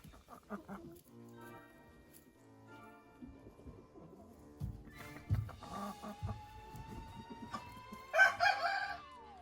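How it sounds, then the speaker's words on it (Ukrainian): Frizzle roosters crow loudly, one long drawn-out call rising near the end, while a frizzle hen clucks and murmurs softly in between. "Півники курочка фрізлі"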